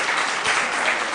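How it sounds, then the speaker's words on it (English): Audience at a school quiz competition applauding the Sunrise International School quiz team, a steady, dense burst of clapping filling the room throughout. "Please clap for them."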